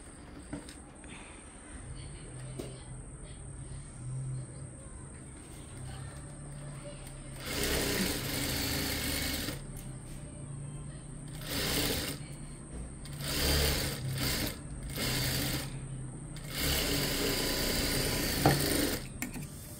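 A sewing machine stitches the lining of a puff sleeve, running in several quick bursts after a quiet start, with some talking around the motor's whir.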